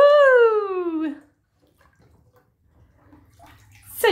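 Water sloshes and splashes in a home bathtub as a pet swims. A loud rising-then-falling vocal whoop opens the moment, then near quiet with faint movement, and a short burst of splashing comes at the very end.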